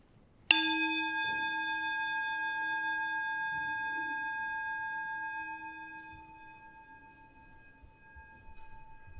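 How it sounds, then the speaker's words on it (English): A single bell is struck once, its bright ringing tone sustaining and slowly fading toward silence in a quiet room during a Sunday service. "As we follow the sound of the bell into silence"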